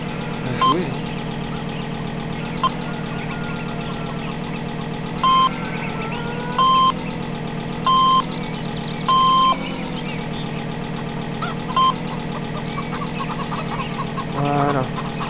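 A truck engine in the farming game Farming Simulator 2015 drones at a steady idle, with short electronic reversing beeps sounding several times over the constant hum.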